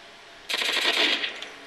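Rapid-fire gunshots in Call of Duty from a Magnum pistol fired with a rapid-fire controller, a dense automatic-sounding burst of about a second, loud and close, with no talk.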